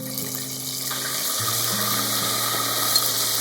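Steady sizzling and bubbling of karaage chicken deep-frying in oil at 180 °C, a constant hiss with a faint low tone running underneath, no voices.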